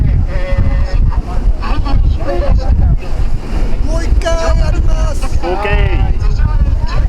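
A sightseeing boat on the river from Asakusa to Odaiba in Japan: loud, constant wind buffeting and engine and water rush, with people talking throughout.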